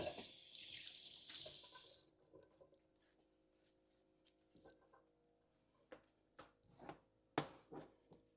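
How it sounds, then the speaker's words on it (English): A kitchen tap runs strongly over hands for about two seconds while a Jamaican potato pudding is made, then shuts off, leaving quiet drips and a few soft taps and clinks. "Rinsing off my hand again"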